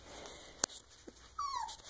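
Four-week-old puppies in an indoor puppy room give a brief high whimper near the end, after a sharp click and a short yip, all fairly faint and close.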